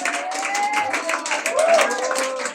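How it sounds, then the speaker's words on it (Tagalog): A church congregation clapping their hands in praise to the Lord, a dense crowd applause with cheering and shouted voices layered over it. "Palakpak natin ating kamay sa Panginoon."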